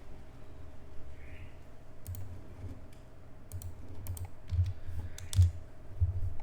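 Keys tapped on a computer keyboard as a command is typed, scattered soft clicks in a quiet room with a faint steady hum, no one talking.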